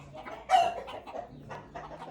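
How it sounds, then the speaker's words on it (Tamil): A village chicken clucks in short, close, repeated bursts, one louder call standing out among softer clucks in a quiet outdoor setting. "கோழி கத்தினே இருக்குது."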